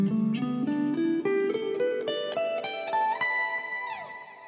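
An electric guitar picks a rising diagonal pentatonic scale of single notes, climbing steadily in pitch with clean, evenly spaced attacks, alone without any talking.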